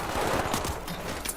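Rapid bursts of automatic turret fire in a video game shooter, a dense rattling fusillade crackling close and continuous for a brief moment.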